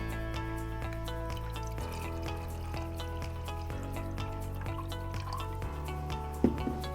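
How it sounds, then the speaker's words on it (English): Water poured from a tap or jug into a liquid measuring cup for an Emeril pasta maker, a steady trickling fill with soft drips over a constant appliance hum, ending with a brief clink. "we're going to take our liquid measuring cup and fill it to the first cup"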